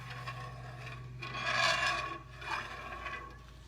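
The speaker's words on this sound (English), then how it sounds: "I'm going to just scrape it and get all the little pan bits and pieces up where I cooked the ham." A utensil scrapes cooked country ham bits off a pan for red eye gravy, making a few close, gritty rubbing strokes that swell and fade in loose rhythm, with no speech.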